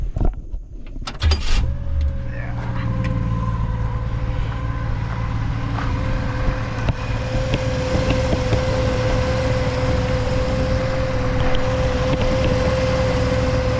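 A carbureted 1967 Chevy Nova engine turns over, catches and settles into a steady, slightly high idle, a continuous close-up drone with a sustained tonal hum running beneath it.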